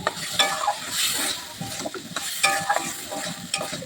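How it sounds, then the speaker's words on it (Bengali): Salted chicken pieces stirred in a frying pan with a utensil scraping and clinking at close range, over a steady sizzle of hot oil. "এবার দিয়ে আমি ভালো করে একটু নেড়ে দিচ্ছি"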